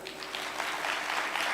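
Audience applause at a Moth storytelling event, a steady wash of clapping from a room full of people, fairly soft and even throughout.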